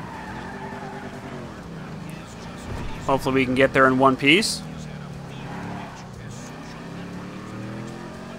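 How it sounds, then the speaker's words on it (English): A muscle car engine in Grand Theft Auto 5 roars loudly in a short revving burst, rising and falling in pitch, with someone talking over it before and after. "I love the way this car sounds."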